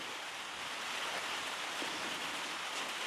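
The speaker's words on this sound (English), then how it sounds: "But the rain is good for the planet." Steady rain falling outdoors during a stretch of stormy weather, a dense, even hiss of drops on surfaces with no breaks, moderately loud and alone with no voices.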